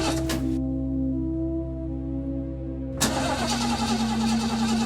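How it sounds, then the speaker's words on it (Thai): A car engine in a forest cranks but fails to start, giving a steady droning hum that breaks into a harsher, noisier churn partway through, loud and close with no talk. "รถมัน สตาร์ไม่ติดเพื่อน"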